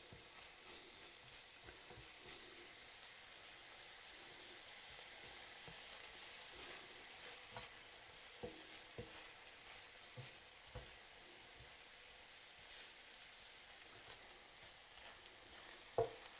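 Ground beef browning in a hot pan, a quiet steady sizzle with occasional soft stirring taps and scrapes, no talking.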